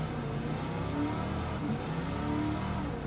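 Pontiac Firebird engine in a racing video game, revving on the Nurburgring: a steady, fairly loud mid-pitched drone with rising and falling rev harmonics throughout, no talking.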